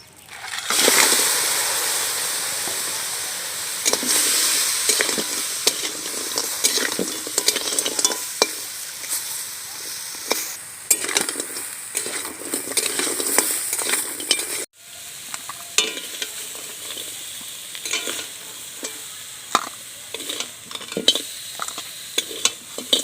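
Sea crabs frying in oil, heard as a dense, bright sizzle broken by frequent spatters and stirring clacks, close by, briefly cut off midway before the crackling resumes, with no voices.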